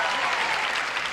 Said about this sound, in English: audience, would you join John and me in giving a hearty welcome to our stars with a brisk round of